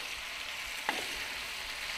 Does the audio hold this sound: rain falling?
no